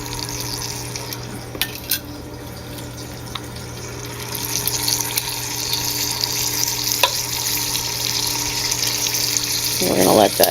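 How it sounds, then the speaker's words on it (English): Wonton meat browns in hot oil in a pan over medium-high heat. A steady sizzle runs under a constant low hum, with a few sharp pops and a louder burst of spattering near the end. "I'm going to braise the meat to create like a nice browning crust kind of look"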